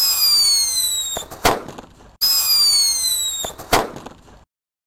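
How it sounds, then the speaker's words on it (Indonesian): A red Whistling King Thunder firecracker goes off twice: each time a high, falling whistle ends in a sharp, loud bang, with a short gap between the two. "yang kita nyalakan di sini ada mercon Whistling King Thunder yang warna merah guys"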